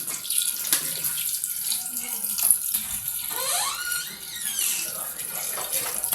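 Water poured from a full bottle into a pot of soaked dal while making daalcha, a steady splashing, gurgling stream that runs close and continuous throughout.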